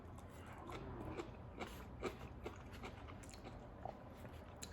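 Close, faint crunching bites and chewing of spicy fermented cabbage kimchi, a series of irregular crisp crunches over quiet background hum.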